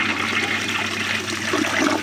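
A vintage 1950s forward trap toilet using 1.6 gallons flushes close by, a loud, churning rush of water that keeps going steadily throughout.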